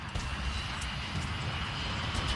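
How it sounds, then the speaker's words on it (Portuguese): A Boeing 737 jet accelerating down the runway for takeoff, a steady broadband engine roar with a low rumble that holds level throughout, heard from inside or near the aircraft. "O 737 finalmente começa a acelerar pela pista."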